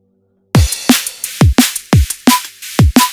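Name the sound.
drum and bass drum break made with Serum and samples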